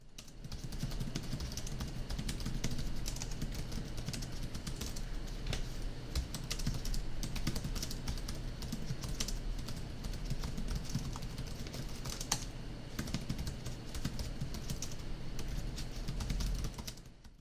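Steady typing on the full-size pentagraph (scissor-switch) keyboard of a GIGABYTE AORUS 15P XC laptop, a continuous close patter of light key clicks running throughout with no talking.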